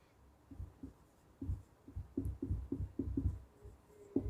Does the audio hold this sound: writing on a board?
yes